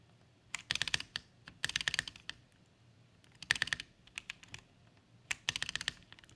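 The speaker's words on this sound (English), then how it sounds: "All right, typing test time." A Satisfaction 75X mechanical keyboard clatters with quick typing in uneven bursts of sharp keystrokes, close and fairly quiet, with short pauses between runs.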